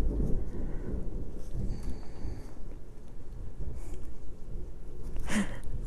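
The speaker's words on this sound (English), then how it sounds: "Thunder scared me." Low rumbling thunder during a storm, a long soft roll that swells and fades over several seconds, with a brief sharper crack near the end, heard indoors.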